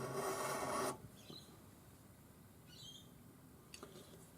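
A hand file rasps against the edge of a fine silver ring in a short, close burst of scraping, then the bench goes quiet apart from faint background sounds.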